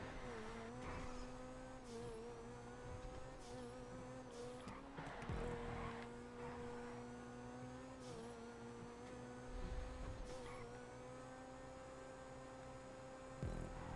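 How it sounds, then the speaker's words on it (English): A race car engine in the video game GTA revs and holds high pitch, dipping and climbing between shifts, with occasional tire noise, steady and fairly faint. "You hear the revs bounce back up to full revs."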